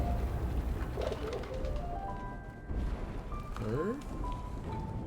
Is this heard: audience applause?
no